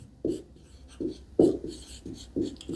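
Marker or pen writing a physics formula on a board, heard as about six distinct scratchy strokes in an uneven rhythm, close and moderately loud, with quiet gaps between them and no talking.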